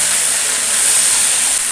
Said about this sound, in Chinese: 咱们下入小龙虾。哎，咱把小龙虾先煎炒一下